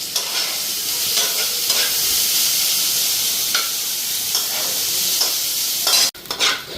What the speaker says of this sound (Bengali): তো এদিকে আলু ভাজাও হয়ে গেছে